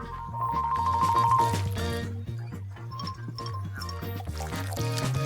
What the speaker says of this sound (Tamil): அதை கோப்பையில ஊற்றுகிறோம்